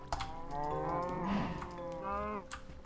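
A Minecraft cow in a pen gives a long, close moo that rises and falls, followed by a shorter lowing call, with no speech over it.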